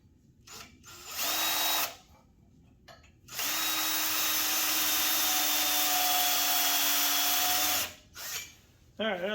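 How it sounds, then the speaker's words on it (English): A power drill whines in two bursts, the second held for about four seconds, in a garage with a drill bit too short for the job. Brief handling noise sits between the runs, with no talk. "Drill bit's not quite long enough."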